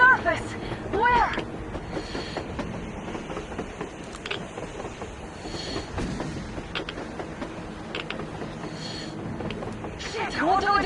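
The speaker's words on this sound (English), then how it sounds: "A damn train on the surface!" A train rumbles along on the surface in Metro Exodus, a steady, dense mechanical roar with rattling clatter that lasts throughout, while voices murmur faintly underneath.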